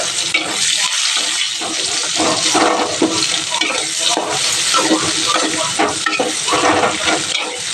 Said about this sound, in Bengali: বন্ধুরা দেখো পেঁয়াজটা একটু ভাজা করে দেখো, টমেটো পেঁয়াজটা